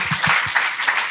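Brief applause from an audience at a brain injury congress panel discussion, a short burst of clapping with some low voice-like sounds mixed in, fairly close.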